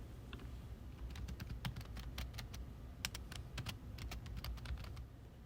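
A login ID and password are typed on a computer keyboard in a steady patter of soft key clicks, close and quiet, with no talking.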